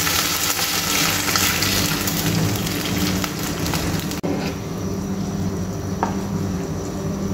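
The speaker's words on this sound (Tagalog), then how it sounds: "Lagay lang tayo ng tubig." Water poured into a pan of sautéed sardines gives a loud, steady hissing splash that runs continuously and then thins after a brief break.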